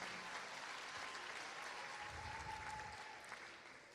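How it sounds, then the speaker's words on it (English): An audience claps steadily for a graduating student at a high school graduation ceremony. The applause is a dense, continuous patter, moderately distant and fairly quiet. "Big round of applause for her."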